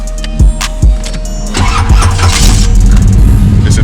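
A Chevrolet Monte Carlo SS with a 383 stroker V8, just back from the transmission shop, cranks a couple of times, then catches and settles into a loud, lumpy idle close by, with no talking.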